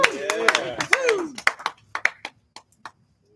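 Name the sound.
audience applause after a spoken word performance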